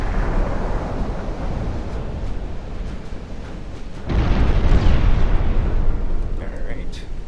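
Naval gunfire in Ultimate Admirals: Dreadnoughts, heavy 14- and 15-inch shells firing in a steady rumbling roar of bursts that swells louder midway, with a voice talking over it.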